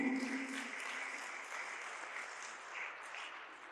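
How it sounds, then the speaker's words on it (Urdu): An audience at a conference session applauds to welcome a speaker, a steady, diffuse wash of clapping that sounds somewhat distant and moderately faint throughout. "بھرپور تالیوں کی گونج میں استقبال کیجیے"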